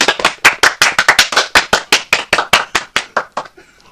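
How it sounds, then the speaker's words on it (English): A small group claps in a rhythmic burst of distinct sharp hand claps, close and loud, slowing and thinning toward the end before fading out. "With all that clapping,"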